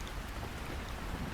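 Steady rain falls densely with a low rumble of thunder underneath, a continuous broadband wash with no voices.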